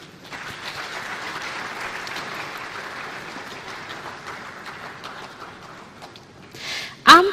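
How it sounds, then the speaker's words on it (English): Crowd applause at an International Women's Day event rolls on at a moderate, fairly distant level, fading toward the end before a sudden loud thump or handling noise. "Round of applause for Sandra Adehene."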